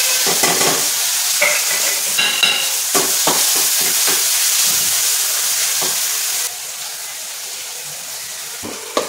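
Onion and tomato sizzle and fry steadily in hot oil with roasted green chilies, a constant crackling hiss broken by repeated stirring scrapes, close up with no talking.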